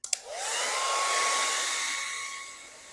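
A handheld hair dryer blows hot air onto car wrap vinyl, starting with a click and a rising whine, then settling into a steady, close, loud whoosh with a thin whistling tone.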